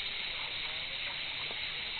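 Broadband rushing water from the Uchan-Su waterfall in Crimea, steady and continuous without a break, with the summer flow low, heard at a moderate distance.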